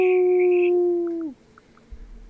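A human voice imitates a wolf howl, holding one long, loud, steady tone that drops off sharply at the end, followed by quiet.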